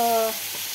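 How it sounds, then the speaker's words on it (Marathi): Large pieces of chicken liver sizzle on a hot iron griddle for a Malvani-style fry, a steady bright hiss after a brief tonal sound at the very start. "हे बघा मी अशा प्रकारे कलेजी तव्यावर टाकलेली आहे."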